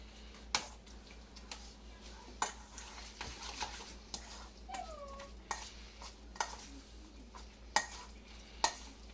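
A utensil stirs spinach cacik made with homemade labneh and yogurt. It gives repeated light scrapes and sharp clinks against the bowl at an uneven rhythm over a steady low hum, close by, with no talking.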